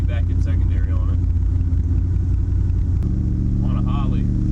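A pickup truck fitted with a Holley 750 double-pumper vacuum-secondary carburetor cruises around the block, its engine a steady, close low rumble from inside the cab.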